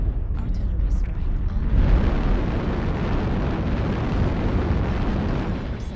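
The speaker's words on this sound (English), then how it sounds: "Artillery strike" Artillery strike explosions in the mech combat game MechWarrior Online, a dense, roaring barrage of booms and crackling blasts that swells after a quieter opening and stays loud and continuous throughout.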